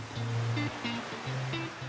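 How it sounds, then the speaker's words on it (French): Ocean waves break on a beach in Thailand, a steady broad wash of surf with a low tonal hum drifting underneath. "Le bruit des vagues derrière, c'est super reposant."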